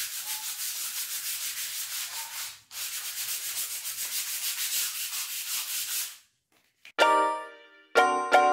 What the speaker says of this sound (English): So I sanded the wall and tried my best to scrape away the paint which was there.